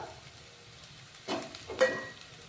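Dill leaves frying in a pan for dill rice, a low steady sizzle with two brief louder bursts as the greens are stirred, close by and with no talking.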